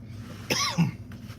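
A single short cough, close and fairly loud, with no talking around it.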